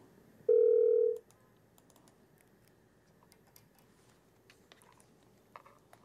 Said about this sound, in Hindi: फोन लाइन डिस्कनेक्ट हो गई है